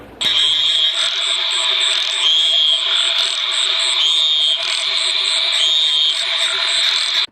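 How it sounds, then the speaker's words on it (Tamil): A burrowing frog calls at night in a loud, continuous, high-pitched trilling chorus that pulses steadily for several seconds, with no talk over it. "பிரமாதமான பாட்டு பாடி நம்மளை உற்சாகமாக வரவேற்றது இந்த பர்ரோயிங் ஃப்ராக்னு சொல்லக்கூடிய குளித்தவளை தான்"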